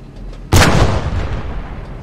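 A tank gun fires in the video game Post Scriptum, one sudden loud blast that booms and then rolls off in a long fading rumble.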